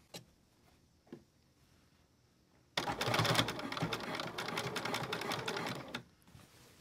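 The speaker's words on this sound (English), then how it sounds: "And you can see here that I'm sewing so that the good stitches are going to be on the top side." Sewing machine stitching bias tape close to the edge around a small dress armhole, a loud steady run of rapid needle clatter for about three seconds after quiet handling noises, then stopping.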